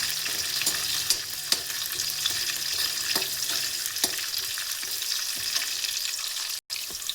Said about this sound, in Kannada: ಎಣ್ಣೆಯಲ್ಲಿ ಚೆನ್ನಾಗಿ ಫ್ರೈ ಆಗಲಿ